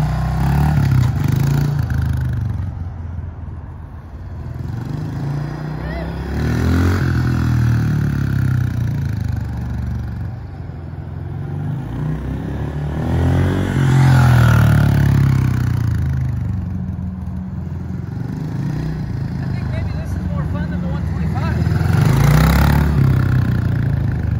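A 2021 Honda CRF110F pit bike engine buzzes and revs through repeated throttle swells and dips while riding, with scraping and clattering mixed in, fairly close and continuous.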